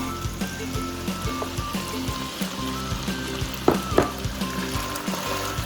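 Beef with green onions and jalapenos sizzles and fries steadily in a pot for a Mexican beef and beans stew, a continuous close crackle with light stirring scrapes and no talk.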